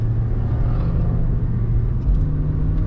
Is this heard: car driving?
yes